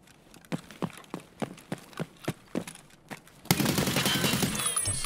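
Rifle fire in Escape From Tarkov, a steady rhythm of single close shots spaced about a third of a second apart, then a sudden loud sustained burst of rapid automatic fire with a dense roar.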